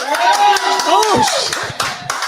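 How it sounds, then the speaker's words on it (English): A live cantina audience at a birthday show claps and cheers loudly for stuffed or deep dish pizza, a dense burst of hand claps and raised voices lasting a couple of seconds. "Let me hear a cheer for stuffed or deep dish pizza."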